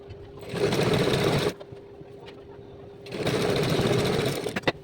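A sewing machine stitches a pant seam from the wrong side with a half-inch margin. It runs in two steady, buzzing bursts of about a second each, close and loud, separated by a quieter pause.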